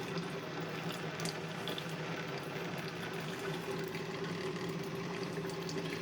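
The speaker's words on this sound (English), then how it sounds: "So it's brewing now. Your coffee in the morning." A Keurig K-Duo coffee maker brewing, giving a steady, moderately quiet watery hiss and gurgle with a low pump hum running throughout, alone with no talking.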